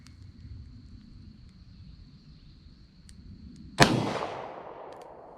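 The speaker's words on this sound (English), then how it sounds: "I'm gonna try to shoot it from a double action here and just see how it does with that" A single sharp .38 Special shot from a Rock Island revolver fired double action at an outdoor range, a sudden loud crack that rings out and decays over a second, with quiet background hum before it.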